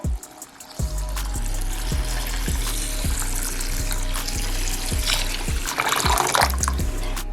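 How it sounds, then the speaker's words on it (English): Water pours and trickles into a bowl of rice with repeated gurgling, rising splashy tones, steady and close, with no talking. "And now I'm gonna start to add in some water."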